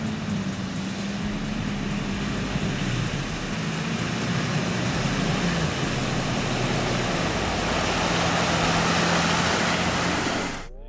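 A Toyota Land Cruiser SUV drives through a water obstacle amid a broad, continuous rushing of splashing water, with a low engine hum underneath, steady and loud until it cuts off at the end.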